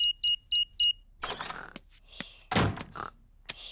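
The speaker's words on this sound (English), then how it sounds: "I'll just switch the alarm off." A house alarm is switched off in a cartoon: four quick electronic keypad beeps, then a series of clunks and mechanical knocks like a door and latch, close and moderately loud, with no talking.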